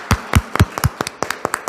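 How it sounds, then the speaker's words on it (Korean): A small, sparse round of clapping rises from a congregation at a Sunday Mass congratulating a couple who offered their son, the individual claps loud and close and falling into a rough, uneven rhythm. "여러분 밖에 계시면 축하의 박수 부탁드립니다"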